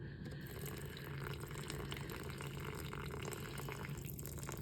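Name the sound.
water poured onto model landscape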